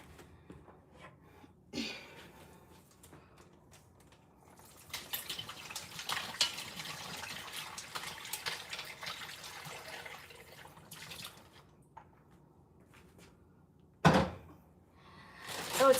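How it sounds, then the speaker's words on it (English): Turkey brine poured into a large brine bag, a soft liquid splash and gurgle building for several seconds, with a few clinks and knocks of containers before and after. "So now we're gonna pour a little bit of the brine in here."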